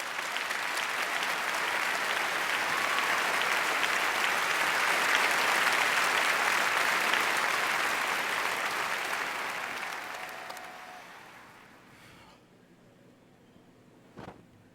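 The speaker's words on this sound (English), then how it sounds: "This is more applause than Dean heard in his whole career." Sustained, dense audience applause for Frank Sinatra at a Grammy Legend Award presentation, a loud broad wash of many hands that holds steady for about ten seconds, then fades and thins out near the end.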